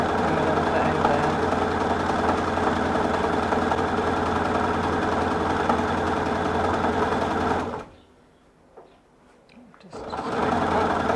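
A sewing machine stitches fabric strips with a steady, close mechanical whirr for about eight seconds, then stops briefly before starting up again. A voice speaks briefly during the pause.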